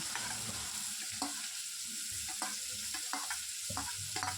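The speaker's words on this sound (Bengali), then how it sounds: "পেঁয়াজটা আমি হালকা ভেজে নেব।" Finely chopped onions for matar paneer sizzle in a pan with dry chillies and bay leaves, a soft steady hiss broken by repeated scraping stirs, close and without talk.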